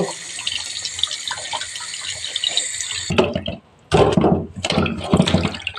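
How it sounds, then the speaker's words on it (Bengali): Pabda fish are rinsed under a running kitchen tap, a steady close splash of water that breaks off and then returns in louder bursts as the fish is handled beneath the stream. "তো আগে মাছটা ধুয়ে নিচ্ছি"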